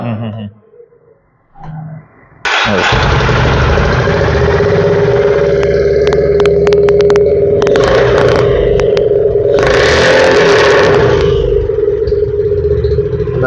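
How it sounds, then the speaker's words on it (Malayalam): After a quiet moment with brief faint sounds, a 2024 Honda CB 350 fires up abruptly and settles into a loud, close, steady thumping idle, with a few sharp throttle blips and revs partway through. "ഞാൻ വണ്ടി ഒന്ന് സ്റ്റാർട്ട് ചെയ്ത് കാണിക്കാം"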